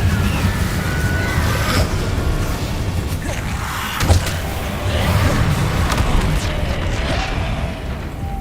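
An Incendio fire spell is cast in Hogwarts Legacy, a whooshing flare of flame with soft booming bursts over steady game ambience, loud and sustained with a thump in the middle.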